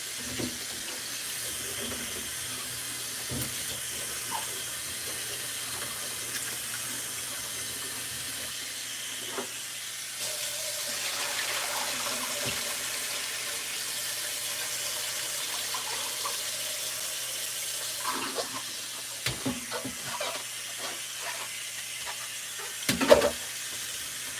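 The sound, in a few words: rinsing potatoes under cold running tap water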